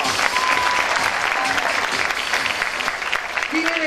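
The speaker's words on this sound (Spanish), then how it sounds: "y más aplausos, claro" A crowd applauds steadily and loudly throughout, dense clapping with a faint voice or two rising near the end.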